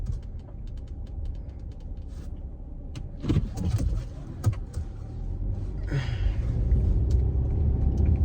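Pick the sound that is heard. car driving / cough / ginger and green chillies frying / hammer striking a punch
car driving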